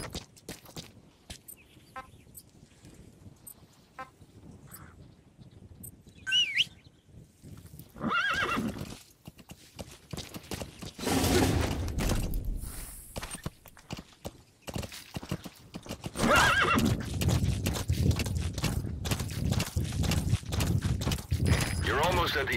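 Horse hooves clip-clop along while a horse neighs and whinnies in the video game Metal Gear Solid V, with bursts of galloping and game-like ambience, and a voice speaking over parts of it.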